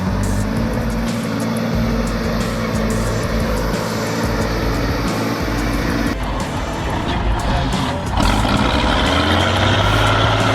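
A ZIL 131 truck engine strains loud and continuous as it labours up a rain-soaked slope, a heavy rumble that swells and shifts under load, with no talking.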